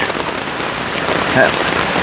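Heavy rain from a thunderstorm pounds steadily on a tent at a campsite in a state park, a dense close patter with no pauses and no voices over it.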